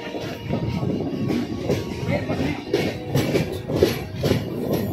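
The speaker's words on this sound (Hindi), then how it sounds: "यहाँ पे 2 मिनट ट्रेन रुकेगी।" Train at Raja Ki Mandi railway station in Agra, a steady rumbling rail noise with faint clatter throughout, fairly loud and continuous, with no voices over it.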